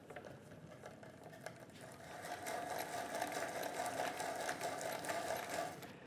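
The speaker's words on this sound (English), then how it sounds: "So I'm going to bore my holes with a 1-inch bit on those crosshairs." A 1-inch bit bores holes through wood for a tool well add-on, making a steady, close grinding and rasping churn that builds slightly louder partway through, with no talking.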